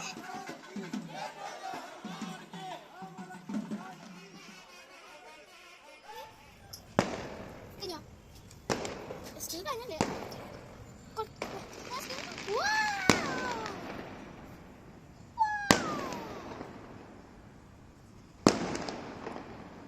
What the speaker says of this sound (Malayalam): പിന്നെ അപ്പാർട്ട്മെന്റിന്റെ പുറത്ത് വെച്ചിട്ട് കുറച്ച് ഫയർ വർക്ക്സ് ഒക്കെ ഉണ്ടായി